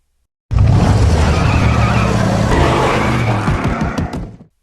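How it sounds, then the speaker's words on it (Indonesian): A modified car skids hard during a test drive in an action film, a loud sustained tire squeal with engine roar lasting several seconds before fading out. "ia pun langsung mengetes mobil tersebut sekaligus mengasah skill menyetir"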